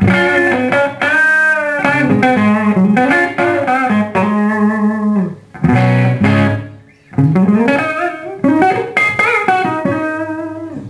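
A loud, heavily distorted electric guitar plays chords and ringing notes through a Krank Rev Jr Pro 50 amp on a bridge Super Distortion pickup, with brief pauses between phrases.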